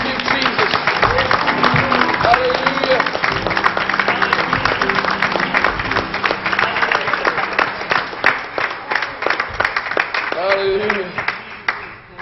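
A Pentecostal church congregation claps during a Sunday morning service, loud and dense, with sharp hand claps over a bed of voices and music that thin out toward the end.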